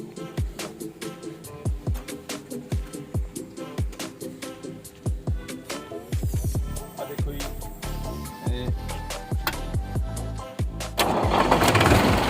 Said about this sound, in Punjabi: ਆਜੋ ਤੁਹਾਨੂੰ ਟਰੈਕਟਰ ਦੀ ਸਟਾਰਟਿੰਗ ਦਿਖਾਉਣੇ ਆ ਜਿਹੜੀ ਟਰੈਕਟਰ ਦੀ ਸਟਾਰਟਿੰਗ ਹੈ ਜੀ ਅੱਧੇ ਸਲਬ ਤੇ ਸਟਾਰਟ ਹੁੰਦਾ ਜੀ